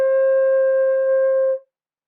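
A flute holds a single steady C, clear and fairly soft, for about a second and a half before stopping cleanly into silence.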